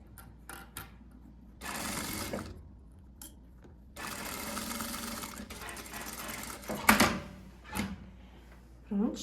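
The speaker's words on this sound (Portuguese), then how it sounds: "costuramos toda a curvinha da manga" A sewing machine stitches around a blouse sleeve in short bursts of rapid mechanical whirring separated by pauses, close up, with small handling clicks between runs.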